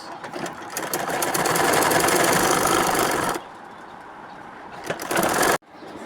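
A sewing machine runs steadily, attaching lace trim along the lower hem of a girl's handmade dress. It whirs loudly and continuously for about three seconds, drops to a quieter hum, then surges briefly before stopping.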